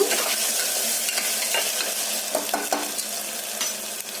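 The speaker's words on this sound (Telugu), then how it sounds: "ఉల్లిపాయలు, పచ్చిమిర్చి, ఇప్పుడు మనం కట్ చేసుకున్న టమాటాలు కూడా వేసుకున్నాము. వేసుకొని ఒకసారి కలుపుకున్నాము." Onions, green chillies and tomatoes sizzle in a pan under a steady hiss, with soft scattered scrapes and taps from stirring, close and moderately loud, with no voices.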